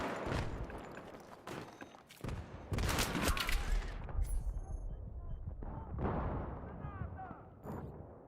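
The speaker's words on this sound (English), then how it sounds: "Grenade out!" Grenade explosion in Battlefield 3 on PS3, a heavy booming blast among bursts of gunfire and battle noise, loud and close, with a rumbling tail fading into scattered shots.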